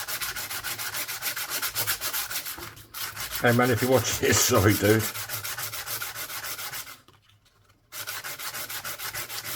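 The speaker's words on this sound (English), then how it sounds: "this bit he hates, the sandpaper noise" Rhythmic back-and-forth sandpaper scraping on a metal coin ring made from a 1930 Finnish one markka coin, close and loud, repeating steadily; someone speaks briefly in the middle, and the rubbing pauses once before resuming.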